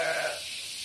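A goat at a farm, waiting to be fed grass, gives a brief, fairly faint bleat that fades quickly into quiet background.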